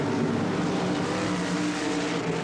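Race cars compete on the Ascot track in a 1984 Pacific Coast Nationals B feature, their engines blending into a continuous, fairly loud roar heard from some distance, with no talk.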